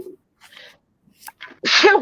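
A single loud, close sneeze bursts out after some quiet breathing and a brief exhale.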